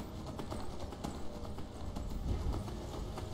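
Horse hooves clip-clopping in a rapid, rhythmic gallop in the video game Skyrim, fairly quiet and continuous throughout with no talking.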